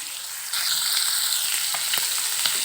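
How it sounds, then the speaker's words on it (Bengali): Pieces of rohu fish fry in hot oil in a pan, a bright, continuous sizzle that jumps louder about half a second in, with a few sharp crackles and pops scattered over the steady hiss. "এখানে আমার মাছগুলো ভাজা হচ্ছে"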